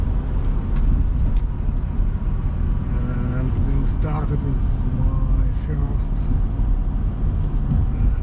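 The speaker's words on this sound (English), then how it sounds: "the favorite car, which is 2007 Shelby GT" A 2007 Shelby GT Mustang driving, its engine and road rumble steady and close from inside the car while someone talks over it throughout.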